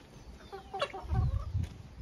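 Criolla breed hens feeding from the ground, with a few soft, low clucks and short chicken calls close by over a quiet farmyard background.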